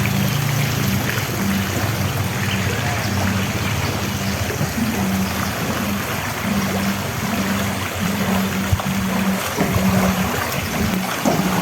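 Waves in a Noah's Park resort swimming pool wash steadily with a continuous watery rush and a low mechanical hum underneath, close and unbroken, with no talk.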